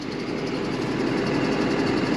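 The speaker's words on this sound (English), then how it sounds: "now it is a front engine diesel, so it's going to be a little bit louder than a rear engine diesel" A Cummins ISB 300 diesel idles in the front of a 2008 Tiffin Allegro 32BA Class A motorhome, giving a steady, continuous low rumble with even vibration and no talking.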